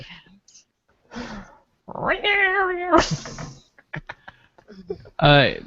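A cat meows several times in quick succession, close and clear, with drawn-out, wavering cries rising and falling between short gaps, used as a sound effect for a bag of cats.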